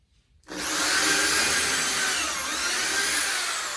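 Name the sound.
power drill drilling holes in wood furniture niche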